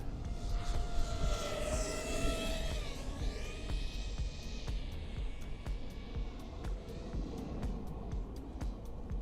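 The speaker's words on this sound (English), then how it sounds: "Do a little flyby here." An iFlight CineFlow 5 FPV quadcopter makes a passing flyby. Its motors whine at a steady pitch that rises and falls, with no talking.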